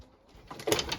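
A young racing pigeon coos briefly and softly as it is let into the loft, the call swelling in the last half second over a quiet background.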